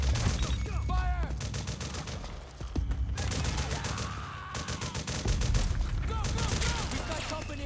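Dense, continuous bursts of game gunfire from Metal Gear Solid 4 rattle through the whole stretch, layered rapid shots and booming blasts with a brief dip midway, loud and close throughout.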